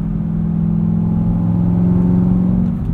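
A 2012 Chevrolet Corvette Z16 Grand Sport manual coupe drives along, its engine a loud, steady low drone from inside the cabin that rises slightly in pitch, with no talking.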